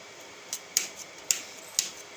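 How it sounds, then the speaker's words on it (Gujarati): Bitter gourd is cut into small pieces on a board: four or five crisp, sharp cutting clicks come at uneven intervals, close and fairly loud over a quiet background. "તો આ રીતે કટકી કરી નાખવાની છે"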